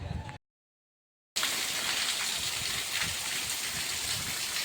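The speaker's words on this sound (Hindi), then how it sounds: "यहाँ है ना बारिश आनी स्टार्ट हो गई" Steady, dense heavy rain pours down at night in a constant hiss, briefly cut to silence near the start, then continuing loud and unbroken.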